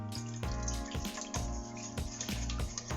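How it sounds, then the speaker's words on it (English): Milk pours into wet carrot cake batter made with coconut flour and coconut sugar. It makes soft, quiet, rhythmic glugging splashes in a steady pulsing stream. "And then I'm going to add the milk, which, as I said, is a little under 1/4 pint."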